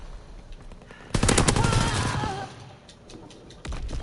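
Strafing gunfire in the Call of Duty video game comes as a sudden loud burst of rapid shots that fades into a rumbling tail, with another burst starting near the end.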